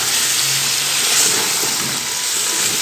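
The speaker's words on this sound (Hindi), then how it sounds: "क्योंकि अब इसे अच्छे से भूनेंगे" Chopped eggplant and potatoes frying in a hot pan, a loud, close, continuous hiss and sizzle that holds steady without a break.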